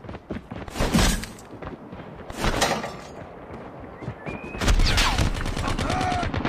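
Bursts of gunfire and heavy blasts, including a grenade explosion, come from a COD Mobile match, loud and uneven in clusters, with in-game voice callouts mixed in.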